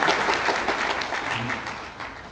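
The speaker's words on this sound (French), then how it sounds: "On l'applaudit, s'il vous plaît." A seminar audience breaks into applause, a broad, even wash of many hands clapping that fades slightly toward the end.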